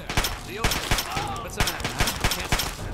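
Rapid bursts of gunfire in Fallout 3, sharp shots repeating every fraction of a second over a busy game soundscape, with some speech present underneath.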